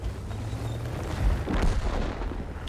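Tank gunfire in World of Tanks, the ShPTK TVP firing on the Erlenberg map, with a heavy booming cannon blast and deep rumbling report that roll on loud and close for the whole stretch.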